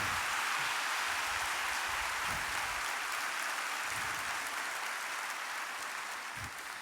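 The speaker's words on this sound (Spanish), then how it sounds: "Deberíamos darle un aplauso al Hijo de Dios" Church congregation applauding during a sermon, a long even wash of clapping from many hands that sounds like rain, steady and moderately loud, easing slightly toward the end.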